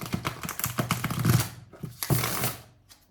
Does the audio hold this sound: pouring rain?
no